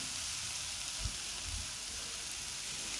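Chopped onion and grated carrot sautéing in a pan for a vegetable sandwich filling, a steady soft sizzle with occasional faint pops and clinks.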